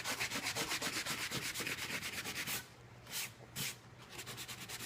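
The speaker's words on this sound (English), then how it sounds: "I'm just going to take my little sanding sponge on the little thin grit" Fine-grit sanding sponge rubbed over a painted surface in quick, rhythmic back-and-forth strokes, close and steady at first, then slower with a few longer passes.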